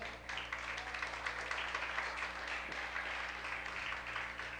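Applause from a church congregation during a Spanish-language sermon fills the space steadily and evenly at moderate level, with no voices rising above it.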